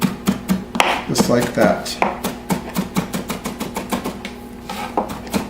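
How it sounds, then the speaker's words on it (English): Knife chopping and mincing food on a board for a BBQ ribs, baked beans and corn meal: a steady run of sharp, close taps, loud and rhythmic, with a person talking briefly over it. "So even if you have to just kind of chop, just make sure you get it nice and minced."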